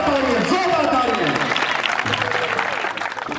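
A congregation claps at a church sermon, steady clapping that starts under a voice and continues after he stops.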